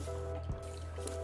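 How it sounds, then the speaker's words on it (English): Cooked chicken for Thai chicken rice drops into a bowl of ice water with a single short wet plunk and slosh, heard close against a low steady background hum. "Plunk the chicken right into cold water."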